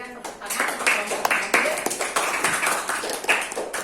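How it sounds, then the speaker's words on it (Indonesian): A class claps for a student group in a brisk, steady patter of many hands at moderate volume, with a teacher's voice continuing over the applause. "Kita berikan tepuk tangan untuk kelompok"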